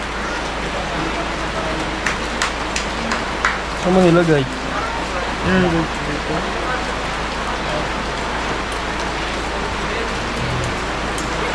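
Rain falls outdoors as a steady broadband hiss, with a brief exchange of voices partway through.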